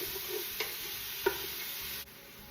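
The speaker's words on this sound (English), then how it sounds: "We want to add the onions, carrots, and celery right into all those stuck pieces that you can see." Onions, carrots and celery stirred into a hot soup pot over stuck-on browned bits give a faint, steady sizzle, with a couple of sharp scrapes of a utensil against the pot.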